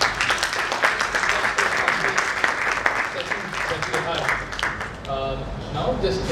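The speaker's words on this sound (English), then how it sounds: "Please, a round of applause" Applause from an audience in a conference hall, sustained rapid clapping that fills the room, with voices talking over it toward the end.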